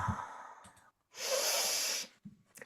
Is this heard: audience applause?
no